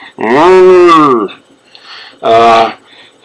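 A voice imitates a cow, giving two drawn-out moos separated by a short pause, loud and close with no other sound around them.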